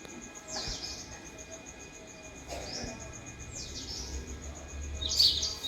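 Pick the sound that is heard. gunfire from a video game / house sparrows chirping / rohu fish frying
house sparrows chirping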